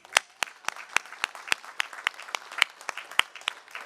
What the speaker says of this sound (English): Let's welcome our new citizens again with a round of applause.